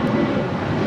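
An airplane landing on runway 25 left at LAX, heard as a brief, steady broadband jet roar with no talk.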